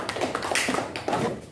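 Brief classroom applause for a student group: a short burst of several hands clapping together, fairly close, ending within a couple of seconds.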